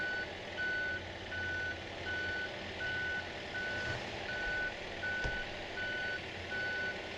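A telehandler reverses at a structural iron shop build, its backup alarm beeping in a regular pulse, about ten evenly spaced tones over a low engine drone, clear and fairly close with no talking.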